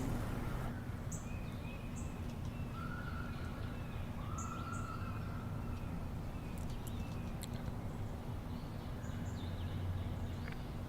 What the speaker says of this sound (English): This is various nature sounds of birds, this backyard.